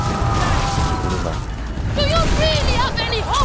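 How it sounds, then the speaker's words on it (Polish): Musket volley and ship combat in Skull and Bones booms and rumbles loudly, with layered blasts and mechanical clatter, while someone talks over part of it. "salwa z muszkietu"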